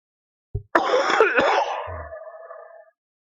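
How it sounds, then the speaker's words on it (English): A harsh, rasping cough bursts out near the mic, then a long wheezy, throaty hack trails off into a rough breath, with no talking. "if I can quit coughing up a lung"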